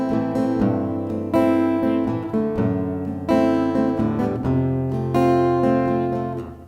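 An acoustic guitar, played in a song lesson, is strummed openly without palm muting, its full ringing chords sustaining and overlapping in a steady rhythm, close and loud with no talking.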